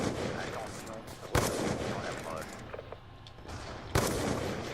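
Sniper rifle shots with a hitmarker in Call of Duty Black Ops 2, a DSR 50 on the Standoff map in a Domination match: two sharp, loud cracks about two and a half seconds apart over steady game noise.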